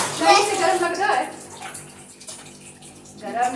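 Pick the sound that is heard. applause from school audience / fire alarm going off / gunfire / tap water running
tap water running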